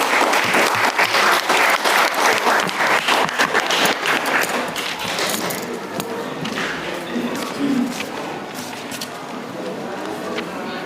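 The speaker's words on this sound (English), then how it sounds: "let's give applause for the students" Loud, sustained clapping from a large audience at a high school English debate competition that fills the whole stretch, gradually thinning slightly toward the end.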